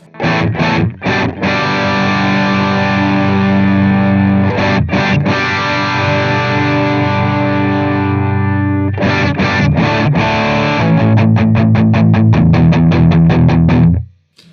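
Distorted electric guitar through a Suhr PT100 amp plugin plays heavy sustained chords with brief choppy stops, ending in a fast run of palm-muted chugs, loud and full.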